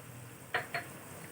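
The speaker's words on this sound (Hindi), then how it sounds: "अदरक, लहसुन और सब्जी मिर्च का पेस्ट डाल देंगे इसमें, और इसको अच्छी तरह मिक्स करेंगे" A ginger, garlic and chili paste is stirred into a pan, with two quick, close scraping clinks of a utensil against the pan over a soft, steady background hiss.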